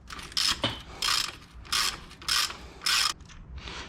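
Socket ratchet loosening 17 mm top bolts on a 2009–2013 Ford F150 during a 3-inch leveling kit install: five bursts of rapid clicking in a steady rhythm, close and fairly loud, with no talking.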